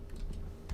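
Quick light taps on a computer keyboard, a few soft clicks in a short burst, close and quiet.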